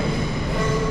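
A train rumbles at a large Amsterdam station platform with a low, steady roar and faint steel-wheel whine. The sound is close and continuous through the brief moment, and no one speaks.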